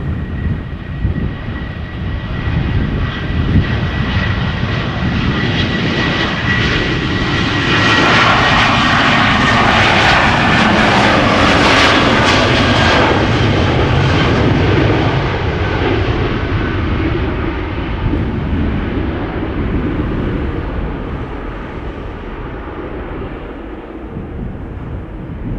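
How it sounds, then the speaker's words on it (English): A KLM Boeing 737 bound for Copenhagen takes off at Schiphol Airport, its loud, sustained jet engine roar building to a peak and then slowly fading, with no talk over it. "We have another 737 lined up, ready to go. KLM flight"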